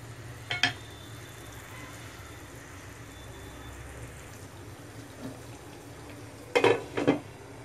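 Green chicken simmering slowly in a pan on low heat in a home kitchen, a steady soft cooking hiss throughout, with a couple of brief utensil clinks near the start and end.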